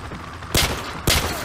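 Two loud, close rifle shots ring out about half a second apart in a Call of Duty 4 target range, each with a short echoing tail over low background noise.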